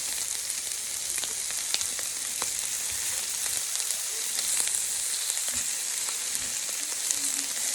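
Shrimp frying in a pan, a steady close sizzle with fine crackling pops running throughout, no talking.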